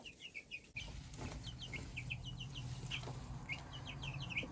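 Turkey poults and chicks keep up a chorus of high, repeated peeps close by over a low background hum, with a short thump near the start.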